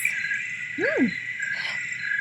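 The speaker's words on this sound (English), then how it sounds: "I hear some maybe crickets and some lightning bugs maybe." Crickets chirp steadily through a night in the countryside, a continuous high trilling bed with one brief swooping call rising and falling near the middle.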